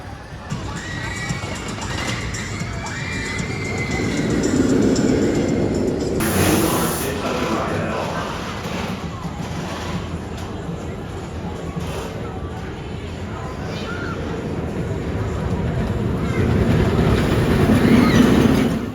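Riding the Steel Force roller coaster at Dorney Park brings a loud, continuous roar of wheels on track and rushing wind, with rattling clatter and muffled rider voices mixed in throughout.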